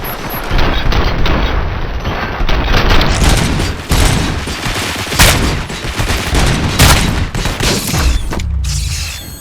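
Dense gunfire volley in the RoboCop: Rogue City video game, a loud sustained barrage of overlapping shots and booms with mechanical clatter, continuing almost unbroken for several seconds.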